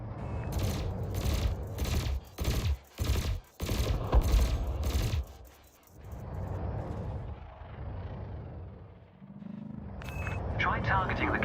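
Spaceship weapons fire in Elite Dangerous: loud, rapid bursts of cannon and laser shots in quick rhythmic volleys, then a lull of engine drone, with a sharp burst of fire returning at the end.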